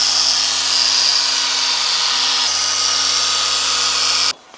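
A car polishing machine fitted with a yellow pad and Menzerna 2500 polish whines loudly and steadily on a door sill, then cuts off abruptly near the end.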